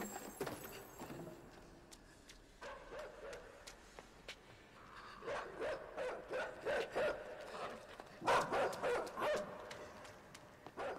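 A dog barks in the video game Inside, in repeated sharp bursts that come in rhythmic clusters over quiet game ambience and grow louder toward the end.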